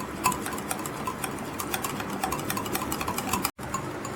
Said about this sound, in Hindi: अब इन सब चीज़ों को अच्छे से मिक्स कर लेंगे